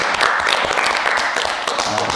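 A church congregation claps steadily in dense, sustained applause during a worship service, loud and close, with a few voices mixed in.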